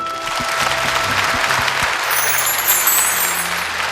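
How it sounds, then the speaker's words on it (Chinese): A crowd applauds three Yue opera performers from the Zhen Huan production on a televised stage show, with sustained, even clapping that carries on through the whole stretch. "我们掌声再次送给3位"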